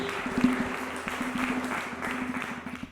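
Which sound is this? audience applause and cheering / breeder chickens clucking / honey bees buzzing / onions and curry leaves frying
audience applause and cheering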